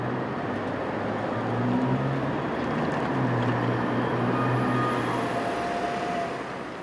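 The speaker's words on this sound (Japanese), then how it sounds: "助けに来た救援用の電車に押されて工場へと向かいます。" A broken-down Iyotetsu city tram being pushed toward the depot by a rescue train, a steady low rumble of rolling rail vehicles with faint humming motor tones, continuous and moderately distant, with no voices.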